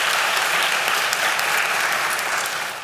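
Steady, dense applause from a large crowd at a school convocation fills the whole stretch, loud and continuous, tapering slightly near the end.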